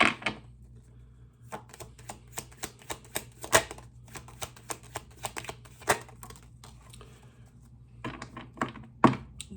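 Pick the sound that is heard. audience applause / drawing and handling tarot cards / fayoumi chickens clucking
drawing and handling tarot cards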